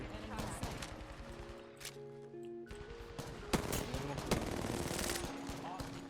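Gunfire in the Apex Legends video game, dense bursts of shots with sharp cracks around the middle, layered over game music and effects, with a voice talking underneath.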